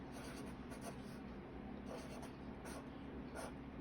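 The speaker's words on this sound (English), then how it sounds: "So on the line, I'm going to write parallel." Pen or pencil writing the word parallel on paper, soft scratchy strokes coming in short bursts, faint and close.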